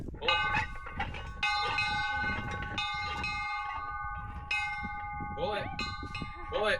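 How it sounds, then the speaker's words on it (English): A bell is rung over and over, its sustained metallic tones overlapping and ringing out through the clip, with voices talking intermittently underneath. "Go out and ring the bell"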